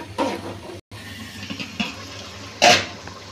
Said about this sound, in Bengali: এখন আমি গরম পানি দিয়ে দেবো।